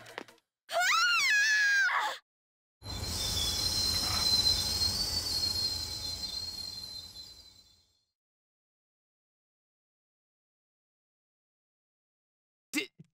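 High, wavering train brake squeal in Persona 3 Portable, a sharp rising and falling screech followed by a longer grinding, hissing roar that fades into silence.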